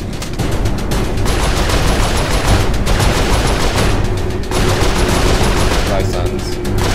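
Turret gunfire in Saints Row IV, a loud continuous barrage of rapid shots and booms that hammers on without pause, with voices mixed in under the din.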